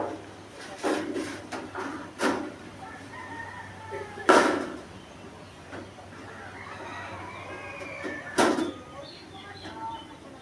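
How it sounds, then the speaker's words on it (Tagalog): Chickens around a yard cluck and call in scattered bursts with a rooster-like cry, mixed with a few sharp knocks and a faint background hum, and a low voice in between. "Nagsisiyapan ang mga manok."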